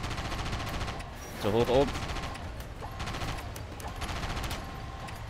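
Gunfire rattles in repeated rapid bursts while shooting enemies in the video game Sand Land, steady and moderately loud under someone speaking German.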